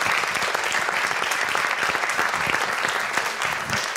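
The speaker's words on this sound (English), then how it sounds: "Can I have another round of applause, please, for Andrew?" Audience applause at the close of a science talk on curing ageing, a steady dense wash of many hands clapping that holds evenly loud for the full length, with no voices over it.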